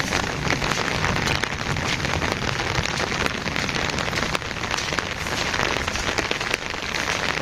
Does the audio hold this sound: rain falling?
yes